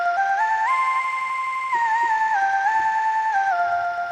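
A wavetable synthesizer preset, its wavetable looping very fast, gives a synthesized tone with a fast, shimmering, flanging texture stepping through sustained notes, steady and fairly loud, with no voices.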